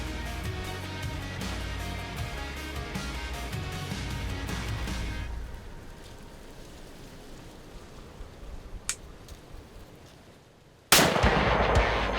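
A single loud, sharp gunshot at a hog during an outdoor hunt cracks near the end, abrupt and close after a long stretch of quiet outdoor ambience with no talking.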